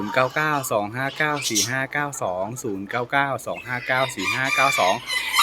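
A Tom Tam bantam rooster in fancy saddle colouring, kept in Khon Kaen, Thailand, crows repeatedly and clucks in between. The calls are loud and close, coming in quick successive bursts.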